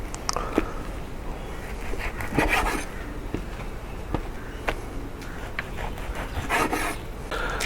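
A knife works through cuts of beef offal being prepared for a Kerala-style fry, giving close, repeated rasping and scraping strokes with small knocks, steady throughout with no talk.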